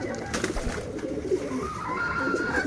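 Pigeons coo softly and repeatedly over brick powder feed, low throaty murmurs close by over a faint steady background, with no speech.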